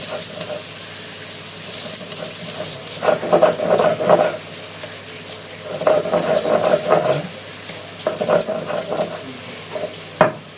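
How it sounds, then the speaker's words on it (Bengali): A mixer grinder whirs through a poppy seed spice paste for patol posto in a home kitchen, running in three short pulsed bursts with quiet pauses between them, fairly close. "মশলাটা দুবারে বেটে নেব।"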